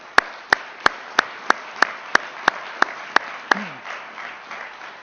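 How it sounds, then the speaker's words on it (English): At a University of Toledo College of Engineering graduate commencement, about eleven sharp, evenly spaced claps ring out in a slow, steady rhythm, then stop, leaving quiet room tone. "let's join together and give one last round of applause for all our graduates."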